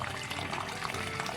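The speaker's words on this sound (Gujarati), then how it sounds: "તો તમને પાણીનો અવાજ સંભળાતો હશે." Water trickles and splashes deep inside a borewell pipe, a faint, hollow, continuous dribble heard briefly from a distance.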